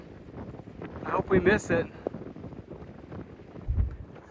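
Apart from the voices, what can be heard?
strong wind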